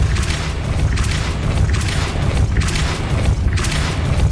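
A Depulso spell in Hogwarts Legacy fires with a series of deep booming bursts that pulse roughly every second over a constant low rumble, loud and alone without voices.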